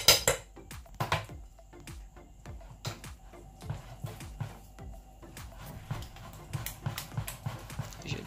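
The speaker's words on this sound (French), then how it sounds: "Je mélange vigoureusement" A utensil beats pastry cream vigorously in a bowl, giving quick irregular clacks and scrapes against the sides. The strokes are close, crisp and uneven in rhythm.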